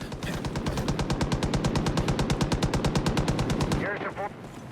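A machine gun strafes in Far Cry 5, firing a long, rapid, even burst of loud shots that stops abruptly near the end.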